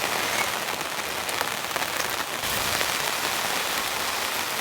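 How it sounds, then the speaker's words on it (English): Steady rain patters densely on a nearby tarp at a campsite, a continuous hiss with soft drumming drops and no voices. "I've missed camping in nice rain like this."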